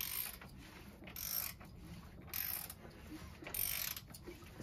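Ratchet wrench turning the engine of a Mercedes 500SL R107 during timing alignment, giving three bursts of rapid clicking about a second apart, close and fairly quiet.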